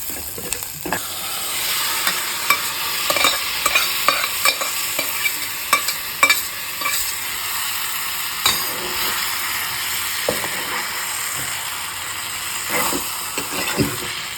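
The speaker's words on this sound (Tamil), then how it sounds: "காய் பருப்பெல்லாம் போட்டு நல்லா கிண்டிட்டு" Vegetables and lentils being stirred in a hot pan for chow-chow kootu, with a steady hiss and frequent scraping strokes and clinks of the spoon, close and clear with no voices.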